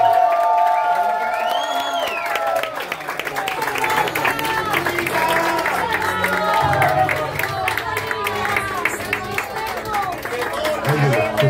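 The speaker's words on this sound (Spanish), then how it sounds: "Quiero un fuerte aplauso para Mojo Jojo." A crowd at an improv competition's grand final claps and cheers for Mojo Jojo, with whoops, a high squeal and lively voices mixed through the sustained applause.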